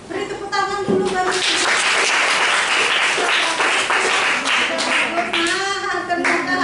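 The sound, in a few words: applause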